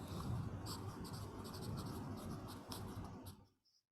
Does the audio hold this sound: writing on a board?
yes